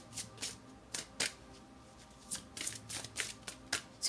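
A Star Tarot card deck is shuffled by hand, with about a dozen crisp riffling bursts in an irregular rhythm, close and fairly quiet, with no voices.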